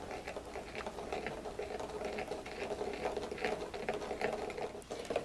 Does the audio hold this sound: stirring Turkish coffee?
yes